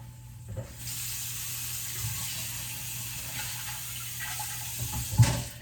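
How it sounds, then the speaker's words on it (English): Cold water poured onto a hot pan gives a steady, close hiss and rush of liquid that holds for several seconds. "also a satisfying little sound that you can get out of a pan, a hot pan at that, if you pour water on it, cold water on it"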